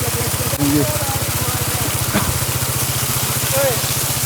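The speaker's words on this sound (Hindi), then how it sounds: "अल्लाह का शुक्र है बाइक अच्छा चल रहे हैं।" A motorbike engine runs steadily at idle on a dusty mountain hiking track, a low even pulsing throb held throughout, close by, with brief faint vocal sounds and a light knock partway through.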